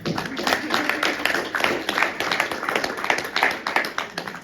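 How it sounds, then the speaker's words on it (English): A modest group applauds at a retirement ceremony, a steady round of clapping at moderate volume with individual claps distinguishable throughout. "So a round of applause for you."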